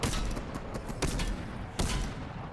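Gunfire in the video game Fortnite, loud bursts of rapid shots in quick clusters, close and punchy, with no talk over them.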